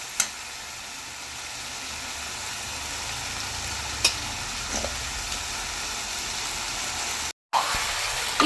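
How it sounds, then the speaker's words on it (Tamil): Mutton pieces frying in oil with softened tomato and onion, a steady low sizzle throughout with a few faint clicks of stirring and a brief dropout near the end. "இப்போ எண்ணெயிலேயே நல்லா வதக்குங்க"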